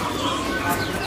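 Caged birds call and coo at a bird market kiosk in Pasar Burung Pramuka, a busy mix of chirps and soft cooing close by while people talk.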